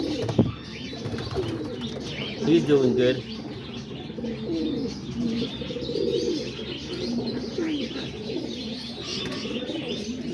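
Pigeons in a backyard loft on a rainy day give soft, low cooing calls with occasional chirps and a brief wing flutter, close by, while someone talks over them.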